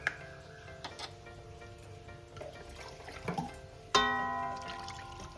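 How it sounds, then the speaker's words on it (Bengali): Water is poured into a pot of hilsa fish curry cooked with mustard, a sudden splashing pour near the end that follows a few faint clinks and ticks from the stovetop. "আর একটু জল লাগবে আমার, আর একটু জল দেবো।"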